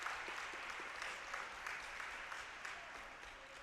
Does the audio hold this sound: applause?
yes